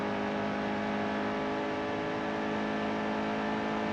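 A race car in NASCAR Heat 2 builds speed at Charlotte, its engine a loud, continuous droning whine that holds steady and close for the whole stretch.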